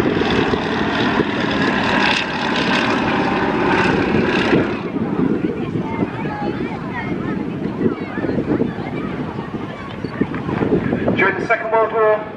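A Fairey Swordfish biplane flying an air display at RAF Valley Families Day, its engine a droning rumble mixed with wind buffeting. Public-address commentary runs over it throughout.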